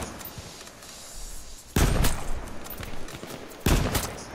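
Gunfire in the survival shooter H1Z1: sharp, loud reports, one burst near two seconds and another near three and a half, over a constant noisy game backdrop with no speech.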